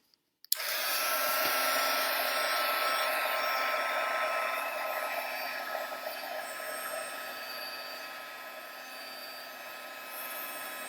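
A heat tool or hair dryer clicks on and blows a steady, loud whirring hiss for about ten seconds while drying a stenciled mixed media tag, easing slightly toward the end.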